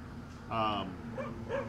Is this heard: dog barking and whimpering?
yes